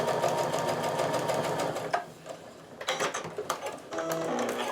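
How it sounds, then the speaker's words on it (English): A sewing machine stitching a quilt block seam, rapid mechanical needle chatter in bursts with brief pauses and changes in speed, close and clear with no talk. "I'm just kind of making sure my points are lined up at the bottom and sewing all the way down"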